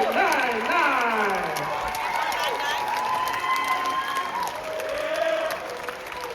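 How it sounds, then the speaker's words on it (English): Crowd at a middle school awards ceremony clapping and cheering, with children's shouts and excited voices rising over a steady layer of applause throughout. "one more applause"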